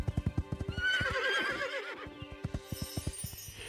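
Horses neigh loudly in the middle while hooves clip-clop in a steady rhythm before and after, close and clear with no talking.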